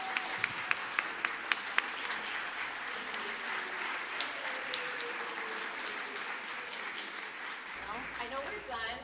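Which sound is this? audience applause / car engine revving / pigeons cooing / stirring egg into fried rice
audience applause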